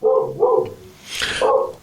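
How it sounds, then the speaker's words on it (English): A dog gives several sharp barks in quick succession, fairly close and loud, with short pauses between them and no talking. "And we hear the dog."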